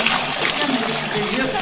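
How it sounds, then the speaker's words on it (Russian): Water from a mountain spring splashes and gurgles steadily and close by, with someone talking over it. "Здесь горные родники, с которых можно попить воды"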